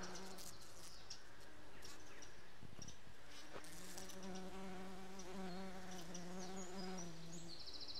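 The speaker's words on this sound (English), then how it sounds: "If creatures that buzz aren't your thing, then you probably wouldn't be standing where I am now, because it is a cacophony of sound." Bumblebees buzzing in a loud, dense cacophony on a hillside walk at Thornthwaite and Darley, several overlapping drones rising and falling near the listener, with faint birdsong high above and no talking.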